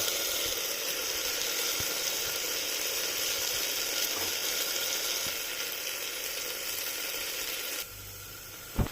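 Onion, mint and rice sautéing in a pressure cooker for a pea and mint pulao, with a steady soft sizzle and scattered faint clicks of stirring, plus a small clatter at the end.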